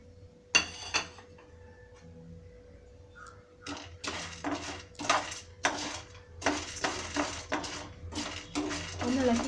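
Roasted peanuts being stirred in ghee in a pan, a series of dry rattling scrapes and clinks in uneven bursts, close by, with quiet gaps between them.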